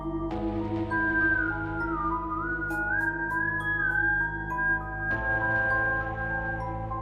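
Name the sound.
eerie whistling passing by at night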